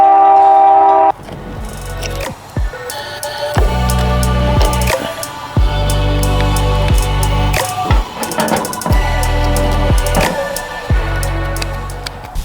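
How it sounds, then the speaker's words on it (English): A train passes close by, loud and rumbling, with screeching, clanking wheels and drawn-out horn-like tones rising and falling over several seconds. "But here comes a train"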